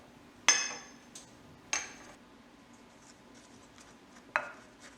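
A spoon or utensil knocking and scraping in a bowl while cheesecake crust ingredients are mixed, three sharp clinks over a few seconds with faint scraping between them, no voices.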